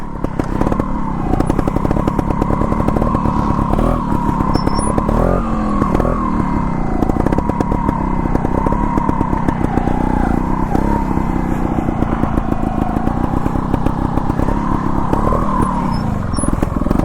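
A trials motorcycle engine labours up a climb near Emmett, Idaho, loud and close throughout with steady chugging and repeated throttle blips and revs.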